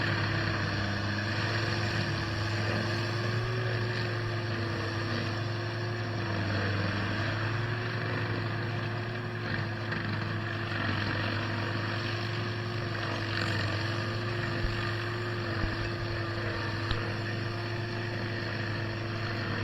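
A stump grinder chews steadily across the grain of a dry 24-inch tree stump, a continuous loud droning engine with a grinding wash and no clear breaks.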